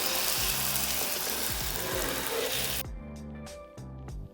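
A glass noodle omelette fries in a pan with a loud, dense sizzle for about three seconds. Then it drops away to quieter crackling and a few spaced pops.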